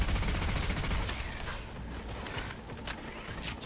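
Smart weapon gunfire from Cyberpunk 2077 rattles in dense, continuous bursts, loud and close at first and easing slightly, with no talk over it.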